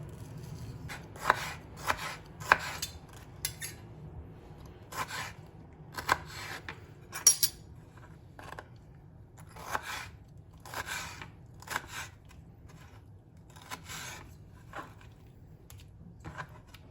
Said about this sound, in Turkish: Çekirdeksiz bir şekilde kabuğuyla doğrayacağım.